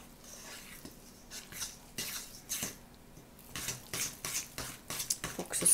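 Frangipane batter is stirred in a bowl, making soft, irregular wet scraping and clinking strokes that grow a little louder and quicker toward the end, fairly quiet and close with no talk.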